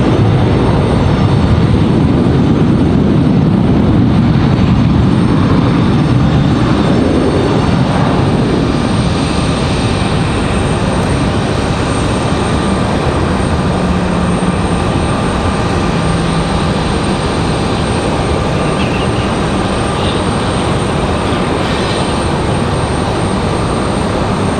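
A Turkish Airlines Boeing 777-300 touches down at Raleigh-Durham airport, its broad engine roar loud and steady at first, then easing into a lower, fading rumble as the jet rolls out along the runway.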